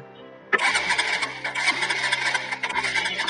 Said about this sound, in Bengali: দেখেন সেলফ কাজ করতেছে,